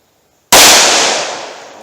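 A single sharp, loud blast from a 4-inch 9mm revolver firing Hornady ammunition cracks out close after half a second of quiet, then rings and decays slowly with no voices.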